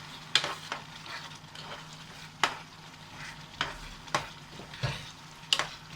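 Spring onion, green chilli and celery stirred into Indo-Chinese chilli chicken in a hot pan, with a soft sizzle under repeated scraping strokes of the spoon, close and fairly quiet, with no talk.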